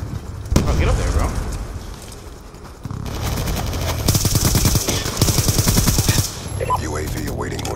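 Rapid automatic gunfire in the video game Black Ops 2, loud sustained bursts of rattling shots with explosive booms mixed in.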